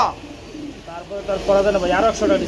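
Pigeons coo in a series of soft, throaty pulses close by, mixed with someone talking at a pigeon sale.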